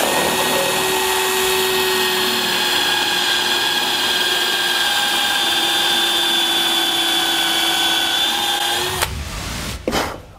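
A power drill runs at a steady, loud, high whine while boring a straight hole through a drill guide, holding its pitch for about nine seconds before stopping abruptly, followed by a short rattle.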